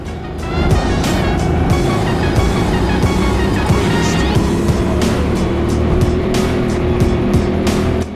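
Racing go-karts running close together in a pack at an indoor track, a loud, steady engine drone with passing whines and occasional tire squeal throughout.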